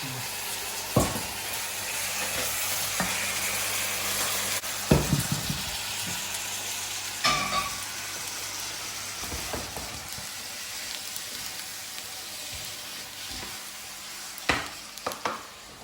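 Beef and vegetables frying in a pan for a homemade takeaway-style dish. A steady sizzle runs underneath, with occasional scraping and clattering as the food is stirred and tossed nearby.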